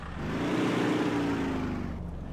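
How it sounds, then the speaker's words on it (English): A stock 1997 Toyota RAV4 four-cylinder engine with a cracked exhaust header in Spintires drones steadily and loudly throughout, with a raspy, buzzing exhaust tone that eases off slightly near the end. "It sounds like a four-cylinder with a set of cracked headers on it"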